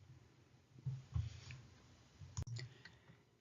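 Computer mouse clicks, a few sharp clicks spaced apart, occurring quietly during an online feedback tool demonstration over a low room hum.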